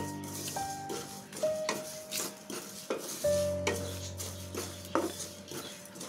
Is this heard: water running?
no